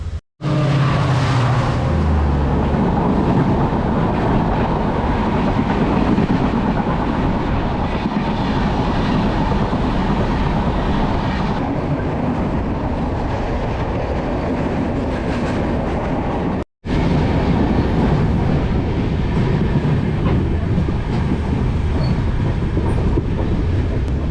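Konkan Kanya Express rolling along rails in monsoon weather, a loud continuous rumble with clickety-clack from the wagons that holds steady throughout, broken only by a brief cut near the end, with no voices.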